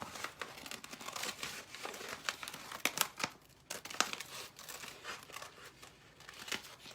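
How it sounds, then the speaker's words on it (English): Plastic furniture transfer sheet being trimmed along its clear top edge during dresser upcycling, close crinkling and rustling with sharp snips and tearing sounds, quiet and irregular throughout. "I like to trim the top because you're gonna take off that little clear edge"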